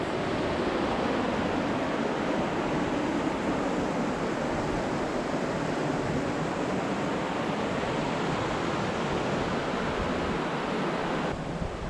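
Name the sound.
river flowing below a rock-cut trail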